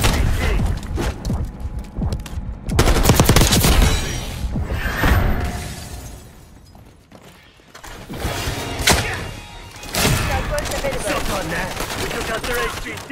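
Gunfire in the video game Call of Duty Black Ops 6, with bursts of shots and heavy thuds, loud in places and quieter mid-clip.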